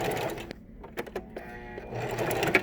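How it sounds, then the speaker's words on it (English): A sewing machine top-stitches along the edge of fabric for a face mask, a soft, quick mechanical whirr with faint clicks, close but fairly quiet, and a voice speaks briefly. "I'm going to be sewing across here, and so this is what your top stitching is"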